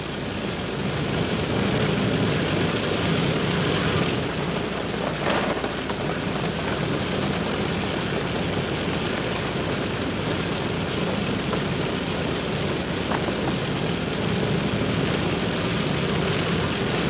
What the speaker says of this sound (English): And the casualties go out by plane.